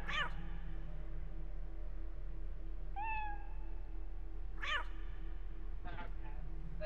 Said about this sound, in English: I knew I heard another cat.